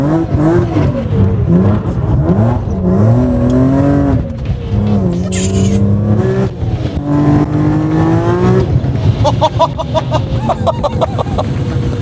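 A powerful engine in a compact BMW fitted with an M3 engine revs and accelerates through rising and falling gear changes, loud and close, with a brief squeal near the end.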